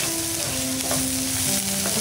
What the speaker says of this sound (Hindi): और पूरे मिश्रण को हम मिला लेंगे।